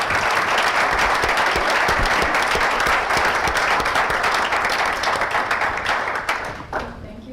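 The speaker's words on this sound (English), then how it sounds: "Let's have another round of applause." A large audience claps loudly and continuously, the applause holding steady before thinning out near the end.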